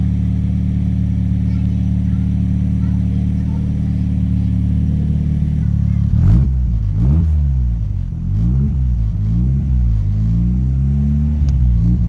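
A Locost kit car engine with a blown turbo idles steadily, then revs up in several uneven rising bursts, loud and close with a deep rumbling tone.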